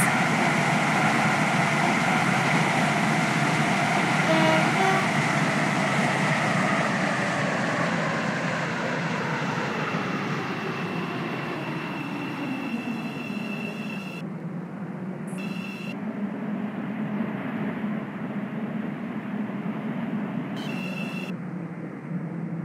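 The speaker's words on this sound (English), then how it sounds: "This train terminates here." Train in the Roblox railway game Stepford County Railway pulling into Stepford Victoria station, a steady loud rumble and rolling drone that slowly winds down as it brakes to a stop, with brief high electronic tones near the end.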